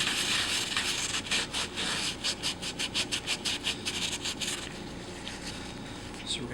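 A plastic wire tie end scrapes an O-ring gasket out of its groove on a Pfeiffer vacuum pump plate during a rebuild. Close, quick rhythmic scratching strokes come in a burst, then fade to softer rubbing.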